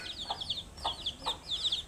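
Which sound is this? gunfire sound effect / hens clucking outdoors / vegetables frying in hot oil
hens clucking outdoors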